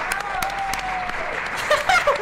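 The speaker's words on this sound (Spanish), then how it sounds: "Un aplauso para ella, por favor" Applause and crowd noise at a lively weigh-in event for a boxing show, a steady wash of clapping with cheers and whistles rising near the end, broad and moderately loud.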